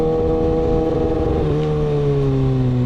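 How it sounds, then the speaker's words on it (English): A 2020 Kawasaki ZX6R engine revs up close, with a loud, buzzing tone that climbs briefly and then drops back, heard alone without any talking. "I may or may not have revved my engine here"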